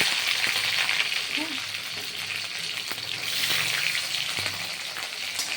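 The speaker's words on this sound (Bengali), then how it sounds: "একটু নাড়াচাড়া করে পেঁয়াজটা একটু ভাজা ভাজা হবে" Onion fried in a pan with garlic and five-spice in hot oil sizzles continuously and evenly, with occasional faint scrapes of stirring and no voices.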